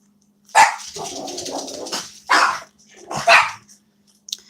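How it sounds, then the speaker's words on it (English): Dogs bark in a few sharp bursts, close and loud, with short gaps between them and a faint yip at the end. "they're barking because they can hear the garbage truck"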